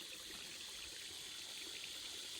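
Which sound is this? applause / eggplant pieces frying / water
water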